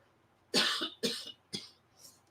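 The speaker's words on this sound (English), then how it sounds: "Hold on, I got a cough." Three harsh coughs in a row followed by a fainter fourth, close up with brief pauses between them.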